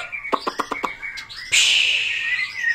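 A pet songbird gives a quick run of five sharp chirps, then a longer bright trilling warble, close and clear against a quiet background.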